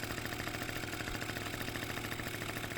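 A 50cc two-stroke scooter engine idles steadily and close by, a dense, even buzzing putter that holds its rhythm for a few seconds with nothing else heard.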